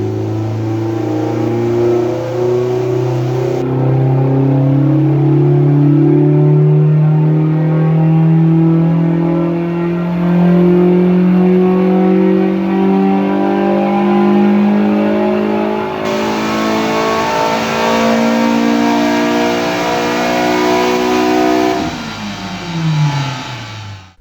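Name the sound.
Ford Fiesta ST Duratec 2.0 engine revving, Mountune inlet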